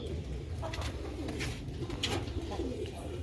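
Pigeons coo in low, repeated throaty calls over a constant rumble of background noise, with faint chirps and a voice murmuring in the distance.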